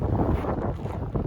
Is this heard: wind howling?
yes